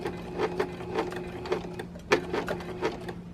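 A sewing machine stitches scrappy quilt binding with a short stitch length, its needle thumping in a steady, quick rhythm with brief pauses, close and moderately loud with no talking.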